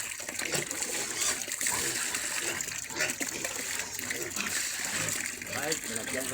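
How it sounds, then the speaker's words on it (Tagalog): Water gushes and splashes continuously as it is poured out for pigs, a close, busy spatter with brief trickles that never stops. "Lagyan muna natin ng tubig mga kaboy."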